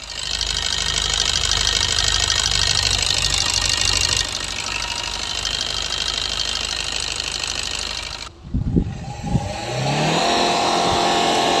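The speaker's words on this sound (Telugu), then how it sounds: "స్టార్ట్ చేయండి బ్రదర్, ఒకసారి ఇంజన్ నాయిస్ అయితే చెక్ చేద్దాం బిఫోర్ ద ఇంజక్షన్." A Maruti Swift Dzire diesel engine runs steadily with a loud, continuous drone and clatter for most of the stretch, then drops to a brief dip with a few thumps and picks back up to a running hum.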